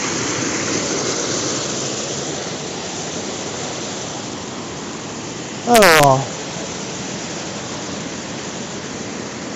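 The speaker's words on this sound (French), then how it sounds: "excusez pour le bruit de la rivière, hein, je suis à 2 mètres" Loud, steady rushing of a river and small waterfall about two metres away fills the whole stretch as broadband noise, with one short spoken word cutting in briefly near the middle.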